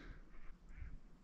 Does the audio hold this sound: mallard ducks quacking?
yes